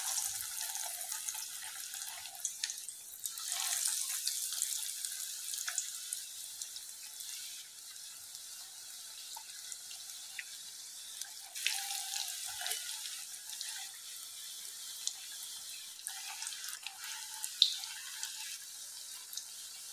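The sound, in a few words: rolls frying in hot oil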